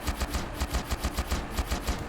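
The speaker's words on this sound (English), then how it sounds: "look at the fireworks" Fireworks in the SnowRunner video game crackle in a fast, steady stream of popping bursts, dense and continuous like rapid gunfire, with no voices.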